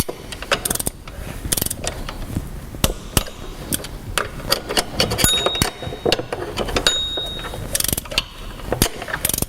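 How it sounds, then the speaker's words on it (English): Ratchet tightening the water pump pulley bolts on a Land Rover Discovery 300TDI, a series of close, sharp clicking bursts with short pauses between strokes, no talking. "We'll continue to tighten the bottom pulley the same as the top one."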